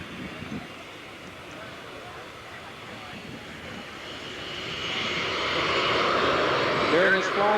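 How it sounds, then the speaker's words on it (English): The QSRA aircraft passes in a low-speed flyby at 55 knots at the 1986 Abbotsford International Airshow, its engine roar swelling steadily from distant to loud, with a commentator talking over it. "During this flyby, the QSRA is flying at 55 knots."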